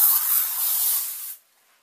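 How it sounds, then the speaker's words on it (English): Glade air freshener aerosol in Hawaiian Breeze scent, one loud, close, continuous hiss of spray lasting just over a second, then cutting off sharply into quiet. "I got this from Target, the Glade Spray in Hawaiian Breeze"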